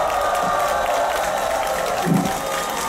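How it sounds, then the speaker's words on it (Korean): Crowd applause rising from an outdoor Catholic prayer rally in Daegu's 2.28 Park, thanking a visiting priest. A steady wash of clapping and crowd noise holds throughout, with no clear break. "김영식 신부님께 다시 한번 감사의 박수 부탁드립니다"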